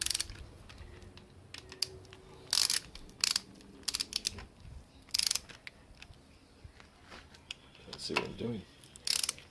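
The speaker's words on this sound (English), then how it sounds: "And we will torque it up." Ratcheting torque wrench clicks and mechanical clatter while tightening bolts on a 302 Cleveland V8 bottom end during rebuild, bursts spaced irregularly at close range, with brief talk near the start.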